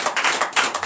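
A church congregation applauds during a night service of deliverance and prophecy, a dense run of clapping about a second long that swells, dips briefly, then swells again.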